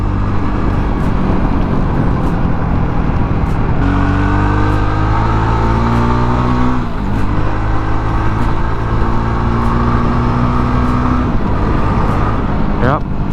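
Jawa Perak motorcycle cruising on a highway at around 90 km/h, its engine a loud continuous drone mixed with wind rush, pitch stepping up and down with gear changes.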